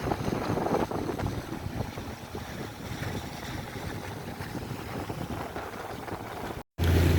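A Westerly Konsort Duo sailboat heads into the wind off the coast near Piel Island, with steady wind buffeting the microphone over the rush of water along the hull, cut by a brief dropout near the end.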